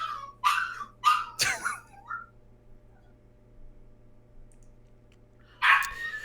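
A dog barks several times in quick succession indoors around dog-food time, followed by a quiet stretch and one more bark near the end, loud and close.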